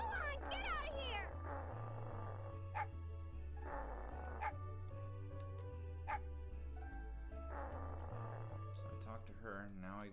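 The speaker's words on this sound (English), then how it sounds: "Now I go talk to the dog." A dog barks repeatedly in the video game Mega Man 64, short yapping bursts scattered over a looping bass-heavy game music track, with character voices chattering in between.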